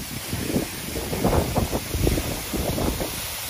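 A waterfall in Nepal roars close by, a constant broadband rush of falling water with gusty wind buffeting the microphone and no speech.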